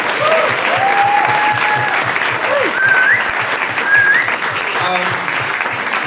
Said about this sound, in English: Another round of applause for Saul Williams.